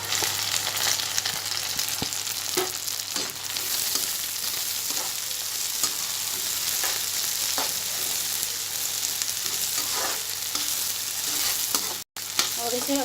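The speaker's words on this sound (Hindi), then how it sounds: "और इसे अच्छे से भुना लेंगे थोड़ा। इसको अच्छे से हम चलाएंगे।" Capsicum stir-frying in a pan for homemade fried rice gives a continuous close sizzle with scattered stirring clicks and scrapes, steady throughout and cut by a brief dropout near the end, no talking.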